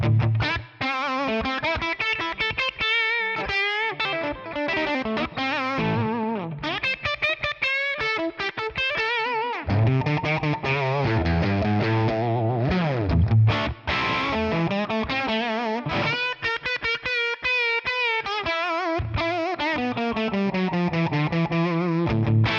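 Electric guitar through a ToneX ONE Dime amp capture with reverb added, distorted rock riffs and ringing bends with a lingering tail, steady and loud for the whole stretch, no voices.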